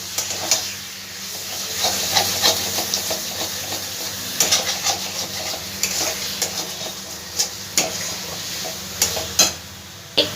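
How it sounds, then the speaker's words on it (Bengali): Chicken pieces are stirred and fried in masala in a pan, producing a constant close sizzle with repeated scraping spoon strokes and light clinks throughout. "চিকেনগুলো দিয়ে খুব ভালো করে আমি মশলাটা কষিয়ে নেব"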